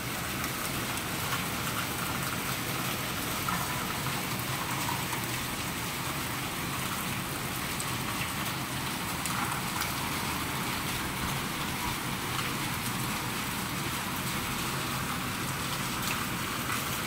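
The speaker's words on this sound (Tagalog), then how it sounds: "Kalakas ng ulan dito." Steady heavy rain pours down continuously, a dense hiss of drops drumming on surfaces with no break throughout.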